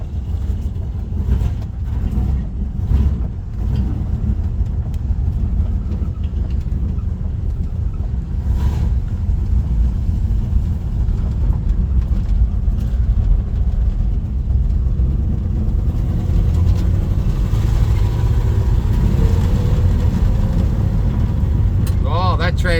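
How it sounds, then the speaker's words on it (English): A Holden HG under restoration drives down the road with a brake-fluid fault and an automatic transmission shifting: a constant low engine rumble mixed with road and wind noise that swells slightly later in the run. "Oh, that transmission's changing beautiful."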